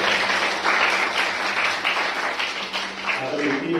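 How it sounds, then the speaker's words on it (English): Audience applause at a club event in a hall, loud sustained clapping from a crowd lasting the whole stretch, dense and close, with a voice starting to speak near the end. "You can applaud for yourself."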